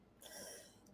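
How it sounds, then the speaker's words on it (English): Coughing and throat-clearing in a single brief, quiet burst lasting under a second. "made me had a coughing fit"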